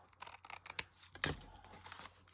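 Scissors trim the overlapping edge of a paper collage folder in a few crisp snips, with soft paper rustling between them in a quiet room.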